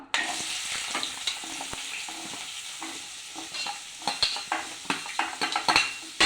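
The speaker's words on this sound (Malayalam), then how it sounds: "നമുക്ക് ചെറിയ ഉള്ളി ഇട്ട് കൊടുക്കാം." Small onions sizzle steadily in hot coconut oil in a pan, a close, continuous crackling frying hiss broken by sharp spoon-against-pan clicks as they are stirred, growing busier toward the end.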